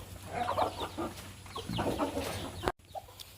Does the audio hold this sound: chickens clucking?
yes